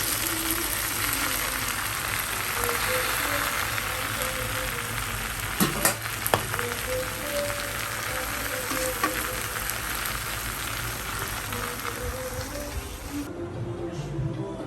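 Ridge gourd frying in a pan of hot oil tempered with nigella seeds, a loud, continuous close sizzle with a few brief clatters of a utensil partway through.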